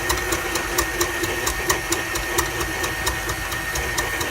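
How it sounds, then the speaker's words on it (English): Cupcake batter of flour and milk being mixed, a steady mechanical whirring with regular clicking beats repeating a few times a second, close and continuous, with no talking. "Mix it a little bit."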